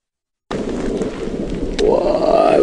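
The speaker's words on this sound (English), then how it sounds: "Wow, we've got a bit of thunder as well." Thunder rumbling at a game reserve during an afternoon outing, a steady broadband roar that begins abruptly and swells slightly louder toward the end, heard outdoors with no clear talk.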